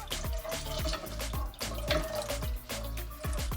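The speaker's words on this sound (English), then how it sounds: "I'm gonna rinse this with some water and add the water in it" Water splashes and drips unevenly into a metal pot nearby, a close, hollow trickling with soft irregular plops.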